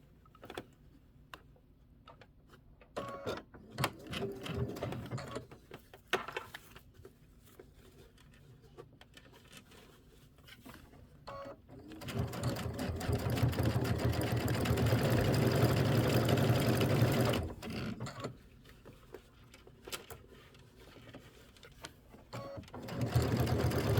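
A sewing machine stitches binding onto a Kimberbell Cuties quilted table topper, with short bursts of rapid mechanical stitching, pauses with faint ticks, and one long loud sustained run.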